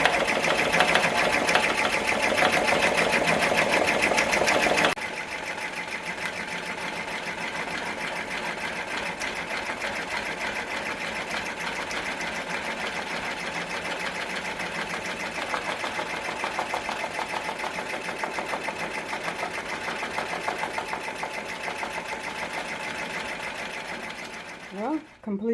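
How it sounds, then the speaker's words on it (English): An embroidery machine stitches a letter H onto a Richardson 112 cap, a loud, continuous rapid stitching chatter that drops slightly in level after the first few seconds and runs on steadily. "after it stitches out this letter H, then I will put it on fast forward."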